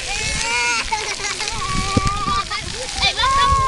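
Water from the holes of a park splash pad sprays and splashes steadily and up close while children talk and shout over it.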